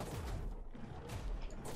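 Gunfire from a weapon in the video game ARK Extinction comes in a short burst of rapid shots. The blasts are muffled and loud, with mechanical clatter across the brief clip.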